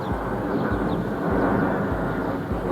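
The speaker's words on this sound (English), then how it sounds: "Fucking airplane." An airplane passes overhead at an off-road ATV racing event, a steady broad engine roar holding loud and even for the whole few seconds, with no talk over it.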